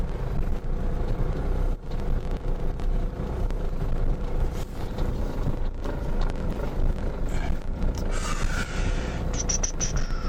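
A Ford Ranger engine idles below 1000 rpm, giving a steady, loud, close low rumble with faint mechanical clicks and a brief higher whine near the end.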